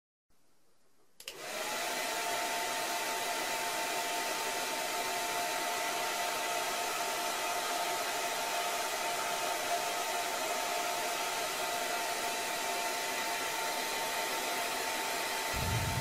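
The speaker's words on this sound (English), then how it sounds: "Let's try it using a ping pong ball placed on a hairdryer." A hair dryer runs steadily, blowing air upward to float a ping pong ball: a brief click, then a loud, constant whooshing hum with a whiny motor tone that holds for the whole stretch, no talking.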